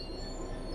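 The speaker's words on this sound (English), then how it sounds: "Bring this train to a complete stop by holding the brake control in the apply state" Train braking to a stop in the video game Train Sim World 5, a brief continuous rumble with a high steady wheel squeal riding over it.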